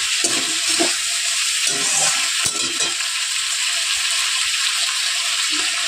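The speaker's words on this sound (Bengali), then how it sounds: "তরকারিগুলো নাড়া করবো পেঁয়াজ দিয়ে পেঁয়াজটা আর কিন্তু অল্প একটু তেল দিয়ে দেবো" Vegetables and onion are stirred in hot oil, making a loud, close, continuous sizzle with intermittent scraping and clattering strokes of the spoon against the pan.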